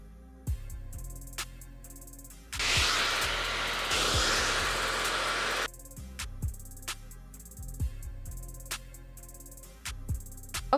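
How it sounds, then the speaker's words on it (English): An Ion Whisper Quiet Light hair dryer fitted with a diffuser blows a steady, fairly loud airy rush for about three seconds. Soft background music plays before and after the rush. "The blow dryer I'm using is my Ion Whisper Quiet Light"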